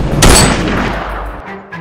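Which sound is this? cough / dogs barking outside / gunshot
gunshot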